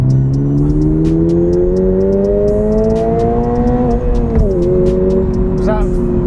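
Toyota GR86 accelerating flat out from inside the cabin, a steady engine note climbing in pitch through the gears with a brief dip at a shift, loud and continuous, with people talking over it.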